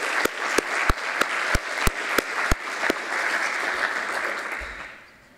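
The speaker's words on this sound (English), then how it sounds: "So, a round of applause to you as well." An audience at a climate discussion event applauds, a steady wash of clapping with one nearby clapper's sharp, evenly spaced claps standing out, before it all fades away.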